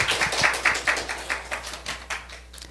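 A church congregation at a Seoul morning service claps in unison, a quick, even beat of sharp claps repeating roughly five times a second, fairly loud and close, gradually softening.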